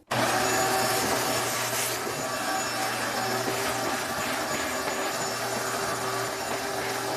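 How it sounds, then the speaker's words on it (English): A vacuum cleaner roars steadily and close up while cleaning a subfloor before tile backer board goes down, a constant loud drone with slight shifts as the nozzle moves. "make sure you vacuum so your subfloor is clean"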